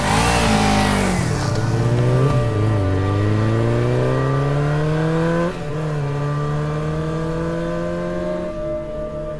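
A car pulls out and accelerates away, its loud engine note climbing through several gear changes and slowly fading as it recedes, with no talking over it.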